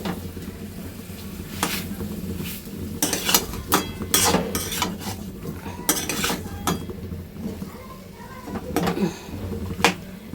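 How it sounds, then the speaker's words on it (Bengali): Potatoes being sautéed in a pan for fish curry, with repeated metallic scrapes and clinks of a spatula against the pan at an irregular pace, over a low sizzle, close by. "এই যে মাছের ঝোল রান্না করে আলুগুলো এখন কষিয়ে নিচ্ছি"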